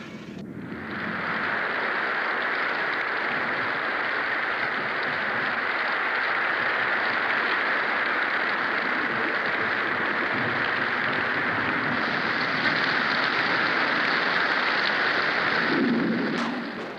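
Steady rain falling in Jakarta in 1971, a loud, dense, continuous hiss that holds evenly for the whole stretch and fades only at the very end.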